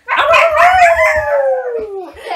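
A person imitates a dog with a single drawn-out howl, rising then sliding down in pitch, clear and close with no other sounds.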